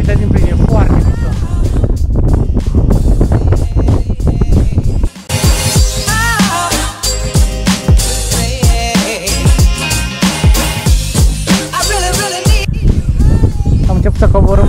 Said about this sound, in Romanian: S-ar putea să nu mă auziți foarte bine din cauza că bate vântul foarte tare